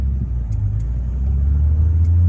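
A cold classic hot rod with twin carburetors, ribbon white-wall tyres and 15-inch wheels revs its engine, a loud low rumbling idle that swells into a deeper, sustained blip, close by and without talk.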